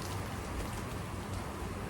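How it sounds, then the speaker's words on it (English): Steady rain falls in Florida, a dense, even hiss of drops hitting surfaces that holds constant and fairly soft throughout, with no voices or thunder. "Yeah, it's definitely raining"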